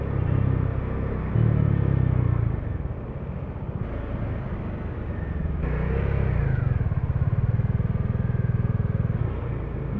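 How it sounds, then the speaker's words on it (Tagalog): Road traffic heard from a moving motorcycle in heavy city traffic, a steady loud engine rumble with wind noise and passing vehicles throughout, with no talking. "Grabe yung traffic dito."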